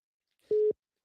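A single short telephone busy-signal beep sounds clearly and steadily over a phone line after a caller has hung up, with silence on both sides.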